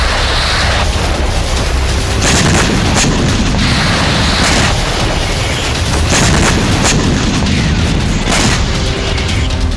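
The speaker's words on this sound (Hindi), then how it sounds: "इस बार रूस की इस्कंदर मिसाइलों का कहर रूस यूक्रेन के बीच फ्रंटलाइन पर बने खार्किव से 130 किलोमीटर दूर यूक्रेन के पोलतावा शहर पर टूटा।" Russian Iskander missile strikes hit the Ukrainian city of Poltava: a continuous loud, distorted roar with repeated heavy booms and crackling bursts throughout, no speech.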